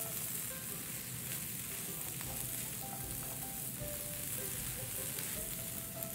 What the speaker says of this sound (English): continues to just saute lightly in the pan without browning